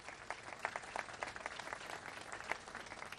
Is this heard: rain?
no